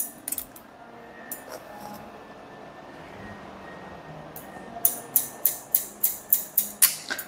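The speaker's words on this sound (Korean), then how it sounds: "가이드라인 확실하게 확인하시면서 포인트 컷으로 잘라주세요." Scissors snip hair in quick point cuts during a light layered haircut, a run of about eight sharp, evenly spaced clicks near the end over a faint room hum.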